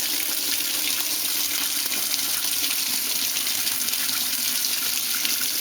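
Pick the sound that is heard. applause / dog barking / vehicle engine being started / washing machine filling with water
washing machine filling with water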